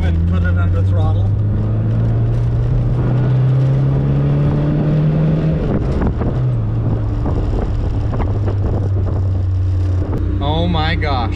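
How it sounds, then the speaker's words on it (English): A 1985 Alfa Romeo Spider pulling away under throttle, its engine a loud close drone rising and shifting in pitch, with wind buffeting the microphone and people talking over it. "all right, we're moving. Put it under throttle."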